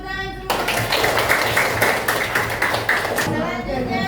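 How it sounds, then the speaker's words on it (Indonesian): Sixth-grade students in a classroom clap together for a few seconds, a dense burst of many hands that begins sharply and then fades out, with voices around it. "beri tepuk tangan semua"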